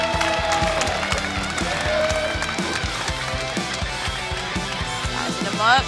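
A wrestling arena crowd roars and cheers for Sam Shaw, a dense continuous wash of noise with thuds and commentary voices over it.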